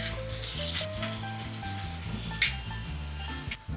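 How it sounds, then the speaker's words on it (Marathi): Kothimbir vadi, savoury coriander fritters, frying in hot oil over a medium flame, giving a steady crackling sizzle throughout, with one brief clatter of a utensil near the end and a faint musical tone lingering underneath. "आता आपण फ्राय करून घेऊया"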